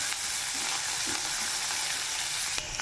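Onions and curry leaves fry and are stirred in a pan, a steady dense sizzle filling the whole stretch close up, with a few faint scraping touches and no talk.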